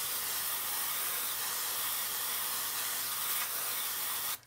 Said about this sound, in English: use a little bit of this MG Chemical Safety Wash, and I'm going to spray the whole board down and let it drip away